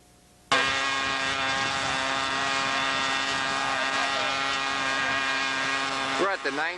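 A model airplane engine at the 1993 Flushing Model Air Show starts abruptly and holds a loud, high-pitched, buzzing whine close by for about six seconds, then sputters and revs briefly at the end.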